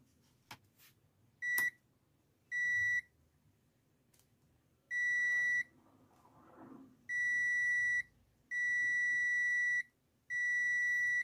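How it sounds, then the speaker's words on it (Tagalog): Steady electronic beeps from a multimeter's continuity tester checking SMD components on an LCD TV board, several sustained tones of varying length separated by short gaps, with faint clicks and handling noise between them. "So set lang natin sa buzzer yung ating tester."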